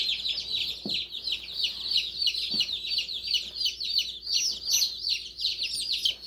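A mixed flock of baby chicks peeps constantly, a dense overlapping chorus of high, thin chirps close by, with a couple of soft low knocks underneath.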